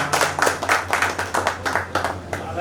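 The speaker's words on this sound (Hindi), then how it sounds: "जोरदार ताली बजाएं" Audience clapping in rhythmic bursts at a village Kurmi community gathering during an honouring ceremony, hands striking in loose unison, fairly loud and close, with a steady low hum underneath.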